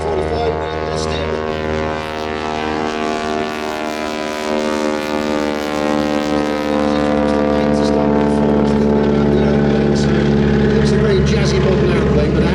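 Propeller-driven engine drone of a T-45 trainer aircraft climbing away at the Sywell airshow, a loud steady harmonic hum that holds throughout with a slowly shifting pitch.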